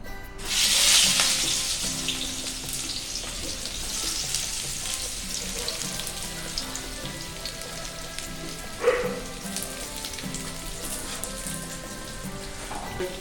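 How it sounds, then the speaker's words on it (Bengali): Pieces of shing fish dropped into hot oil burst into a loud hissing sizzle, then settle into a steady close crackle with a single sharp pop later on, no voices. "আগে একটু ভেজে নেবো, কারণ এটা একটু মোটা করে কাটবো।"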